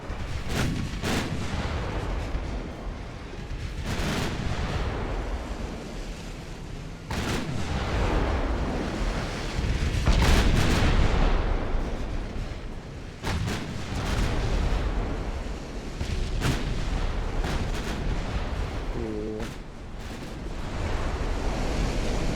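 Battleship guns in Ultimate Admiral: Dreadnoughts firing repeatedly, heavy booming blasts every few seconds over a constant roar of sea and wind, loud and close, with no voices.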